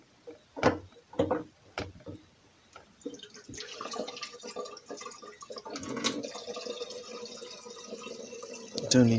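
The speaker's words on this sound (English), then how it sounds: "Get some water flowing." Water running from a tap indoors: a few sharp drips and clunks first, then a steady, moderately quiet stream of flowing water builds and continues to the end.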